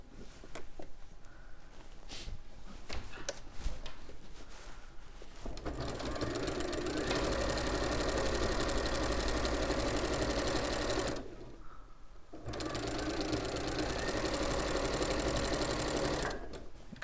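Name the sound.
sewing machine sewing quilt binding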